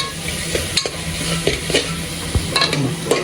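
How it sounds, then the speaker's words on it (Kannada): Onions fried and stirred in a pan for a goat leg soup, a loud, close sizzle broken by repeated scraping strokes and clinks of the spoon against the pan. "ಈರುಳ್ಳೆಲ್ಲ ಹಾಕೊಂಡ್ಮೇಲೆ ಸ್ವಲ್ಪ ಹಂಗೆ ಹುರ್ಕೊಂಡು ಈರುಳ್ಳಿ ಜೊತೆ ನೀಟಾಗಿ ಹುರ್ಕೊಂಡ್ರೆ ಇನ್ನೂ ಚೆನ್ನಾಗಿರ್ತದೆ"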